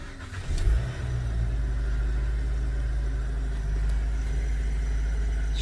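A 2021 Nissan Sentra S starting up: a brief cranking catch that rises to a short rev, then settles into a steady, even low idle hum, close by.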